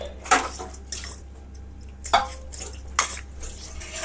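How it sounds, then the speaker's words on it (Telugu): Dishes and pots being scrubbed and handled in a home kitchen sink at night, with repeated clinks and clatters of utensils in bursts and softer scraping in between, close and fairly loud. "తర్వాత ఇక్కడ ఉన్నటువంటివన్నీ తీసేసి పక్కన పెట్టేసుకొని తోమేసుకుందాం గిన్నెలు"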